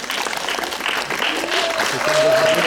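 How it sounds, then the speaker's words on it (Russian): Steady, loud applause fills a historical ballroom dance festival as couples are presented, with the clapping continuing throughout while a voice speaks over it. "Несмолкающие аплодисменты."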